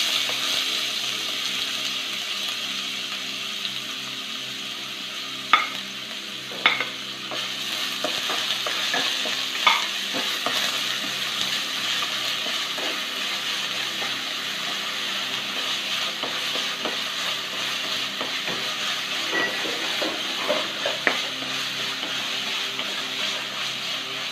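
Finely chopped onion sautés in a pan for chicken momo filling, a continuous moderate sizzle broken by occasional spatula scrapes and taps, with no voices.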